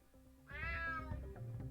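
A cat meows once in the stealth video game UnMetal, a loud, drawn-out wail with a rising then falling pitch, followed by softer rustling movement with no one speaking.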